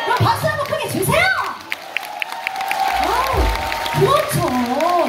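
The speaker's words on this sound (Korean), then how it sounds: "그럼 박수 한번 크게 주세요!" A festival concert audience claps and cheers loudly for a traditional-music band's final stage, a dense, sustained wash of applause with shouts and whoops and voices rising over it.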